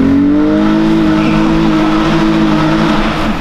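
A Volkswagen VR6 convertible revs hard in first gear inside a tunnel, its engine note climbing loud and steady with the echoing drone filling the whole stretch.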